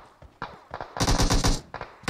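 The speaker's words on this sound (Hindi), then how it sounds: "चली गोली चली।" A loud burst of rapid gunfire in PUBG Mobile with sharp cracks, preceded and followed by a few scattered single shots, no talking.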